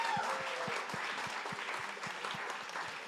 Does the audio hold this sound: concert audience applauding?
yes